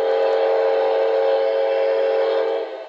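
A New Jersey Transit GP40 locomotive in the Trainz 2006 railroad simulator game sounds one steady, loud, sustained horn blast lasting nearly three seconds before cutting off.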